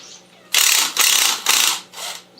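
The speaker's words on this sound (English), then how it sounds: "And we'll countersink these screws" A drill countersinks screws into a wooden ball setter in four loud, close bursts of about half a second each, separated by short pauses, with no talking.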